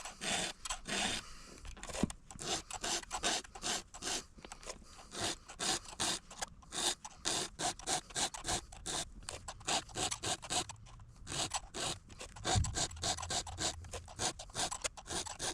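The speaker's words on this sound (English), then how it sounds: "So we're just filing in one direction, right? Your file is made to file in one direction, not two." Hand file rasping across chainsaw chain teeth in quick, repeated strokes, a steady rhythmic scraping heard up close with no talk.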